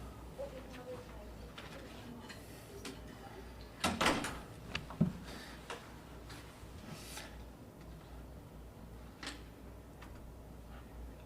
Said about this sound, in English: Robert, can you shut the door, please?